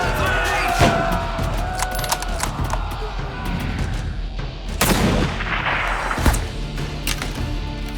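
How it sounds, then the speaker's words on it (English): A fierce battle between the French army and Qing soldiers at Tamsui, heard as dense, continuous gunfire with heavy artillery booms and sharp cracks over a constant roar of battle. "the French army started to shoot, and a fierce battle between the 2 sides commenced"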